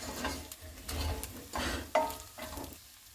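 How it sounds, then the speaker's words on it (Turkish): Meat being stirred in a hot pan with sweet red pepper powder for homemade tantuni, a steady sizzle under repeated scraping strokes of the utensil, close and fairly quiet. "Tatlı olan toz kırmızı biberimizi güzelce ekledikten sonra etimizi karıştırıyoruz"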